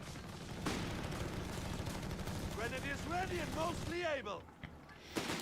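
Bursts of machine gun fire from an MG team in Company of Heroes 3, a steady crackle of distant battle running under a commentator who talks throughout.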